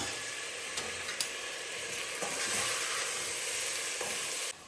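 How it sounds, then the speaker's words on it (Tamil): Rice tipped into sautéed onions sizzles in a pan for carrot rice, a steady hiss that swells slightly midway with a few light clinks, then cuts off abruptly. "இப்போ நம்ம அரிசியை போட்டுடலாம்."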